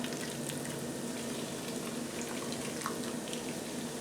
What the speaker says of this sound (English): we're going to take our Ham's beer. We're going to open it up like that. Pour it right in there.